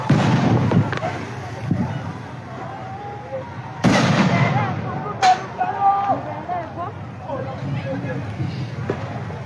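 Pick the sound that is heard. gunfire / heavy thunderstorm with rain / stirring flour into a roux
gunfire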